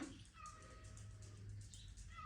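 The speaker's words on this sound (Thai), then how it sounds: "นอนได้ยินเสียงแมวเมียวนะคะ" A faint cat meows softly in the distance over a low steady hum, with a few thin, drawn-out cries.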